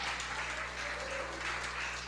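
Sustained applause from a church congregation during a worship service, a steady dense wash of many hands clapping at moderate loudness with no talking over it.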